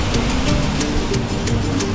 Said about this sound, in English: El Chiflon, a chain of waterfalls that form in the bed of the San Vicente River, are absolutely spectacular.